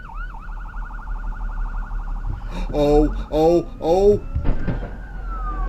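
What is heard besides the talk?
police car siren in a played video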